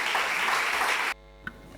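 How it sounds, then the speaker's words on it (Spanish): An audience applauds the speakers at a cultural talk with dense, full clapping that stops abruptly after about a second, followed by near silence and one faint knock. "Un fuertísimo aplauso para ellos y que disfruten de esta primera charla."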